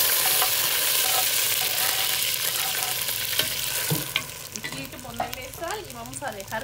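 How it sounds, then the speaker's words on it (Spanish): Chopped vegetables fry in a pot with a little oil for a homemade sardine broth, starting as a loud dense sizzle with stirring, then settling into a lighter crackle with a wavering melodic sound in the background. "Aquí vamos a poner a freír todo lo que picamos."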